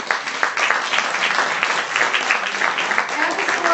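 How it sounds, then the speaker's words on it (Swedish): Warm applause from a seated audience for a panel at an industry discussion event, dense continuous clapping filling the room throughout, steady and fairly loud. "Och en varm applåd tycker jag vi ska ge till våran panel."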